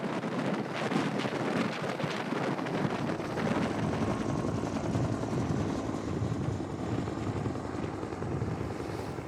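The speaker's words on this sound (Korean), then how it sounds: "국립공원공단 헬기가 바쁘게 오가고 있다" A National Park Service helicopter on supply runs over Seoraksan's mountains keeps up a loud, continuous rotor thump and whine. Wind buffets the microphone as it passes overhead, and no one speaks.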